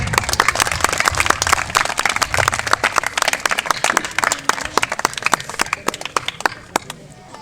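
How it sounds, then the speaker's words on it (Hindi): Audience applause at a village community honour ceremony in India, a dense burst of many hands clapping close by that holds steady for several seconds, then thins out into scattered claps near the end. "जोरदार ताली"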